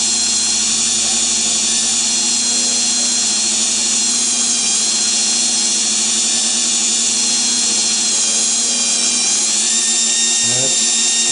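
A spinning axle is polished as it is rolled over, giving a steady, loud, high-pitched motor whine that runs without a break, with a small change in tone near the end.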